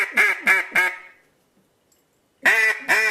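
A duck call blown softly gives three short quacking notes in quick succession, then a pause of near silence before two more quacks, close and clear with a nasal, reedy tone.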